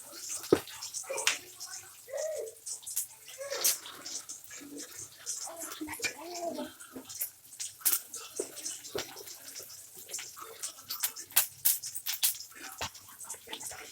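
Onions dropped into hot oil for a Tamil fish pirattal send up a steady, bright crackling sizzle with scattered sharp spits and pops, close and continuous throughout.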